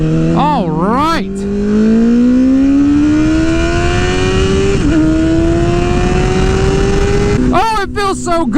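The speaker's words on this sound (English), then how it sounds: "I've missed riding this bike so much, I forgot what speed felt like." Honda CBR1000RR motorcycle ridden through a parking lot, its engine revving in quick sharp bursts at the start and end around one long smooth rising pull, loud and close.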